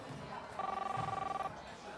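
A telephone rings in a radio play, one electronic double-tone burst at moderate level, with faint voices and room chatter underneath.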